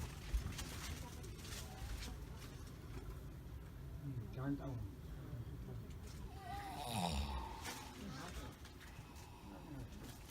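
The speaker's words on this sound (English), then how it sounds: "There's a dude snoring in there." A man snoring inside a Chinese sleeper train compartment, rough rhythmic snores rising every few seconds over the steady rumble of the moving train.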